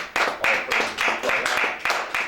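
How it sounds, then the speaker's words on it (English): An audience gives a warm round of applause for a guest at a community news gathering, a steady, close patter of many hands clapping for a couple of seconds. "Let's give Sister another warm round of applause"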